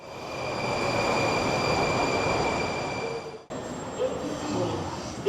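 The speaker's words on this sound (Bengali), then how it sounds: "আচ্ছা, ট্রেন আসছে" A train arriving at a station in Kazakhstan or Uzbekistan gives a loud, steady rumble with thin high whines, then cuts off abruptly, followed by quieter station ambience with faint voices.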